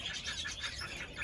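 Red-rumped parrots in an aviary give faint, repeated chattering calls at a steady pace, soft and somewhat distant.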